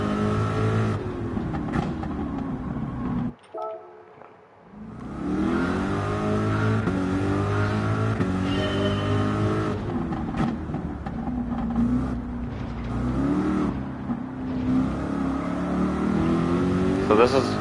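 Corvette engine revving in Gran Turismo 7, rising and falling through gear changes with a brief drop to near silence early on, someone talking over the steady engine note.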